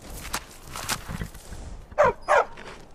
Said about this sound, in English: Need a trained war dog?